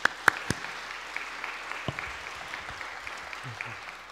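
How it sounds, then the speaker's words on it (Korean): A church congregation at a Friday prayer meeting claps to welcome a visiting speaker, with a few sharp, loud claps up front over a softer, steady ripple of applause across the room. "우리 박수로 환영하겠습니다."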